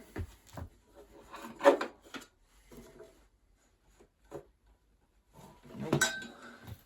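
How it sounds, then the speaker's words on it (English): Metal screwdriver scraping and clinking against a belt and pulley at the back of a worn machine, with scattered close scrapes and knocks, a louder clunk early on, a quiet gap, then a burst of rubbing and a faint ringing tone. "Let's get the belt off. Let's stick a screwdriver somewhere."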